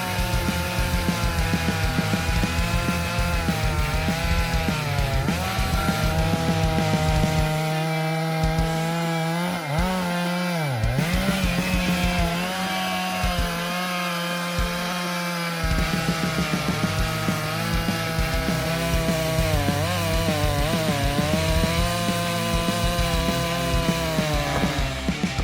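A chainsaw cuts down trees one at a time for a wooden house build, its engine whining steadily and shifting pitch as the chain bites through the wood, loud and close with short drops in between.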